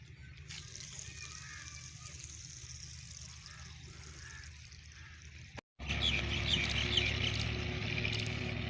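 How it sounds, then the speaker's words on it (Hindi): Water splashes and trickles as someone bathes indoors in a village house, with birds chirping nearby; the sound briefly cuts out, then returns louder and closer. "अंदर कोई नहा रहा है"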